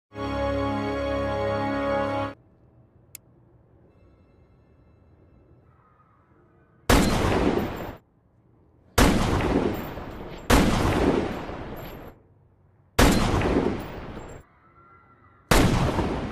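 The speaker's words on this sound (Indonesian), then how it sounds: "seorang sniper yang tidak dikenal yang sedang menembaki beberapa orang di sebuah taman dari atas gedung" Sniper gunfire in a film scene of people being shot in a park: a low musical passage gives way to quiet, then five loud sharp shots with echoing tails, spaced a couple of seconds apart.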